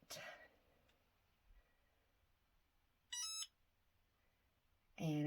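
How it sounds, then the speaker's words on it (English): A couple of short electronic beeps from a Cricut mug press, separated by quiet pauses, with faint background noise and a brief voice at the start. "I did just hear the Cricut mug press beep"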